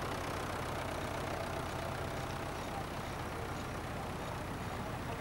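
A Ford Major vintage tractor engine runs at a steady, even drone, a constant low rumble with no pauses, fairly close and loud.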